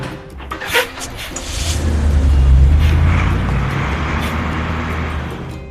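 A vehicle engine rumbles in a kids' construction vehicle video game, a loud low drone that builds and holds steady after a brief sharp cartoonish effect near the start.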